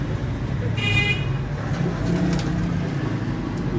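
Teddy Qasoori golden pigeons coo close by, while a car horn toots briefly and traffic rumbles steadily underneath.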